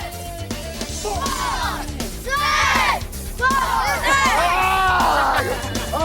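Children yell together in a crowd at the 1998 World Children's Baseball Fair in Shizuoka, Japan, loud overlapping shouts and whoops rising in several bursts and carrying on throughout.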